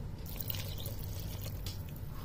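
Water poured into spiced black masoor lentils in a pan makes a steady soft splashing and trickling close by, continuous for a couple of seconds with no talk.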